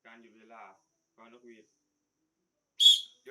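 A basketball referee's whistle gives one sharp, shrill blast near the end, after a few short stretches of speech.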